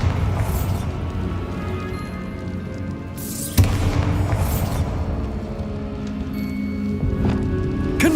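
A single sharp Bombarda spell blast from Hogwarts Legacy cracks out midway, loud and sudden over a busy game background of rumble and clatter.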